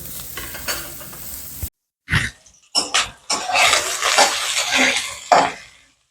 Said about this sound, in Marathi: कांदा चांगला लालसर होतोपर्यंत भाजून द्यायचा आहे